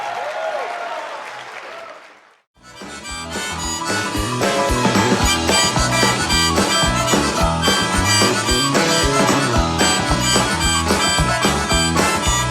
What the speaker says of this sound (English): The reason that sounded odd was because this is a G harmonica.